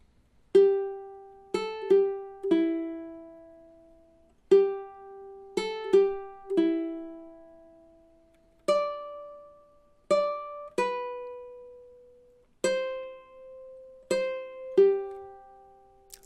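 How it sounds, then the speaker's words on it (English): A ukulele picks out the melody of Silent Night as single plucked notes, each ringing and decaying, in a slow, steady rhythm with short pauses between phrases, played alone and close. "here's the first 8 measures of Silent Night"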